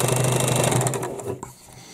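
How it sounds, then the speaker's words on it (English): A sewing machine runs a fast, close, continuous stitch on a heavy bag near a handle, then slows and stops with a click as it reverses. "I like to do a reverse stitch"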